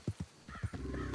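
A horse's hooves clip-clop in quick beats and a whinny follows, all brief and fairly quiet, in the video game Red Dead Redemption 2.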